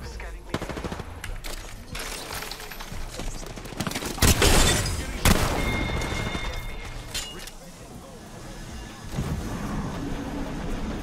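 Gunfire in the video game Apex Legends, with loud bursts and a sharp heavy blast mid-clip over game noise, while players talk over it.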